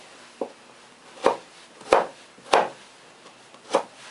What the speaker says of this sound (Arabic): هنقطع بقى حته الجنزبيل حته صغيره